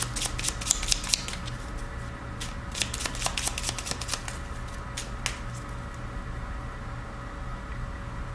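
A deck of tarot cards being shuffled by hand, quick papery riffles and flicks coming in short bursts near the start and around the middle, close and fairly quiet over a steady low hum, with no talking.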